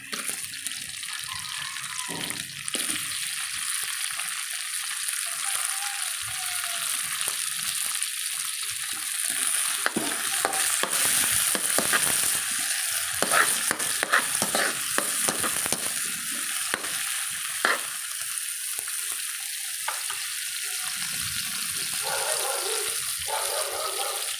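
Chopped tomato sautés in a hot pan, a loud continuous sizzle with scraping and stirring strokes throughout and no talk.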